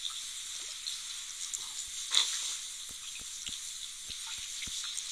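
Running shower water in a Toca Boca video game, a soft, continuous high hiss of spray with faint light taps, fairly quiet and alone.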